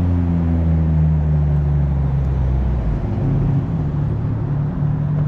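Green Porsche car passing on a street, a steady engine and road rumble with a low tonal hum heard close by and fairly loud, with no talk over it.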